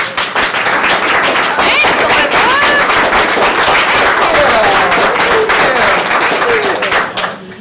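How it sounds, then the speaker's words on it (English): Audience at a 1 Million Cups community pitch event breaking into loud, dense applause and clapping that swells immediately, holds steady for several seconds, then tapers off; a brief spoken word is heard. "let's give her a round of applause"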